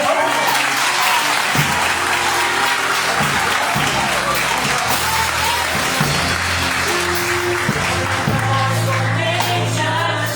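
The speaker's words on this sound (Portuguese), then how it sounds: "Pode aplaudir mais forte." Church congregation clapping harder during a worship service, a loud continuous wash of many hands with sustained music beneath and occasional voices mixed in.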